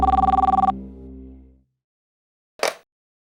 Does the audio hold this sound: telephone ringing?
yes